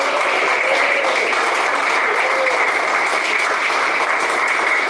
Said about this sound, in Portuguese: Quem bate palmas?